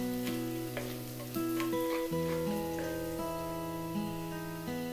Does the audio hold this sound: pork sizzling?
yes